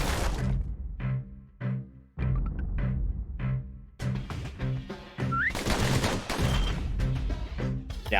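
Upgraded pistols with piercing bullets fire in the Bastion video game as a steady run of sharp, punchy shots, some in quick pairs, mixed with a tonal musical score.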